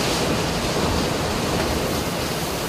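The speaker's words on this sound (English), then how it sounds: "It's about to get real windy." Loud, steady roar of wind buffeting the microphone, a dense broadband rush with no pauses.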